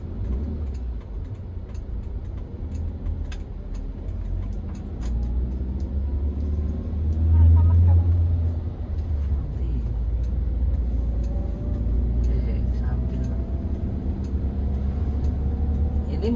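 A 2014 Toyota Avanza G with a 1300 cc engine and manual transmission creeping slowly along a road, a steady low engine and road rumble from inside the cabin that swells briefly midway.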